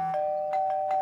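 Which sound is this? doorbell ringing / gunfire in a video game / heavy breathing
doorbell ringing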